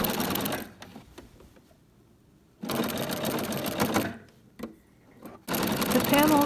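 A sewing machine top stitching a fabric table runner runs in three bursts of rapid, close needle clatter separated by pauses with small clicks.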